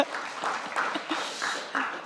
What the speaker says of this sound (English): oh, sorry, let's clap